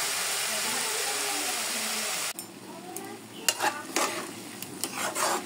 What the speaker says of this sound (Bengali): একটু ভালো করে নেড়ে চেড়ে দিব